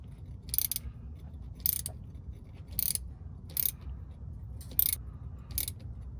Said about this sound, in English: gonna tighten the hose clamp